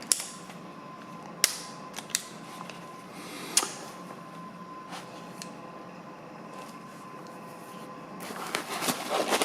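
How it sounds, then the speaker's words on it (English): Stainless SIG Sauer P220 Match Elite .45 pistol being decocked and handled, a few sharp metallic clicks and snaps spread over a quiet stretch, followed by louder rattling handling noise at the end. "it's got the SIG decocking system, which is, I mean, to me, the industry standard on decocking a gun right there"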